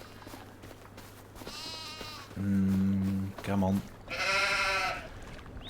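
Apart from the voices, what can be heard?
sheep bleating in video game Farming Simulator 25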